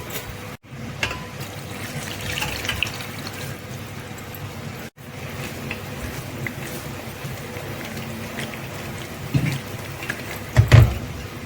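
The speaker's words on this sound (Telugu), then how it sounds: "ఇప్పుడు దానికి సరిపడగా నీళ్లు పోసేయాలి" Water poured into a pan of dried fish curry at home makes a steady, soft splashing rush that continues throughout, with a few clunks of the vessel near the end.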